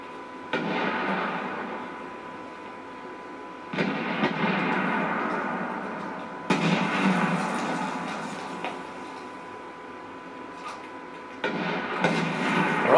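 Grenades burst in multiplayer combat in Medal of Honor Warfighter, several heavy blasts with rumbling decay spaced a few seconds apart, loud over constant background battle noise.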